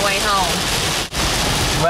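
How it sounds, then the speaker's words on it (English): Heavy rain pours steadily onto a moving car on a drive home in Maine, a dense, loud, continuous hiss and drumming with a brief dip partway through. "it is pouring again"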